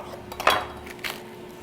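A knife cutting the woody core out of a cabbage, heard as two brief, close crunching cuts with a faint clink, over a quiet room hum and no talking.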